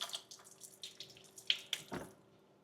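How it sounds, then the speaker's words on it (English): Sorrel is rinsed under a running kitchen tap: close splashing and trickling water with irregular drips and spatters, fairly quiet, no speech. "So I'm going to rinse out my sorrel here."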